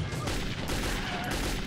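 Dense, continuous gunfire in the shooter game Metro 2033, a loud sustained burst of rapid shots filling the moment with little let-up.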